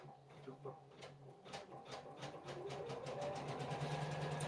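An embroidery machine sews a tack down stitch, making a quiet, rapid, rhythmic mechanical pattering with a low hum under it.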